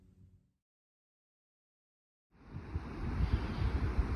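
Surf rolls onto a sunset beach at evening, rising after a short quiet gap into a steady, close wash of breaking waves with some wind buffeting the microphone.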